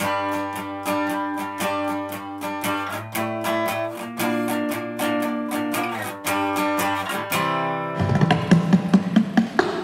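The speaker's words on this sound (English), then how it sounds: "a really nice strumming pattern for reels in its own right" An acoustic guitar strums a brisk, driving Irish reel rhythm with sharp regular strokes and changing chords, ending in a burst of brighter, busier playing.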